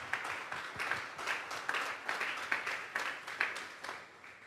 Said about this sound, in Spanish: Dele una ofrenda de palmas a Dios en esta hora.